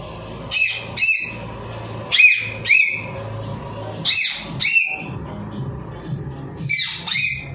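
At a village government primary school, a student imitates a parrot with sharp, high squawks in irregular pairs, close and loud, with short pauses between bursts.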